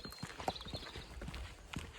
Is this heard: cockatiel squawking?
no